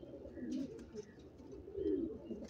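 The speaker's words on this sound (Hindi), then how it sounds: "शौक़ के लिए रखे गए कोयटा के कबूतर।" Soft, low cooing of Quetta pigeons in two swelling phrases, fairly close, with faint background rustle and a few light chirps.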